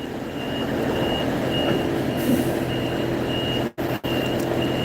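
A truck's reversing alarm beeps steadily and repeatedly over a loud, rumbling engine, with a brief dropout near the end.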